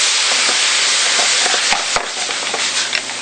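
Wine hits a hot pan where mussels are being cooked, giving a steady loud sizzling steam hiss with a few soft clinks and stirs throughout.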